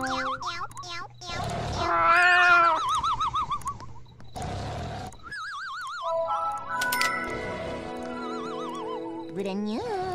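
Several high, wavering cat-like meows and whinny-like cries from the video game Raise a Floppa overlap, some drawn out and warbling, mixed with tonal game sounds and other noises.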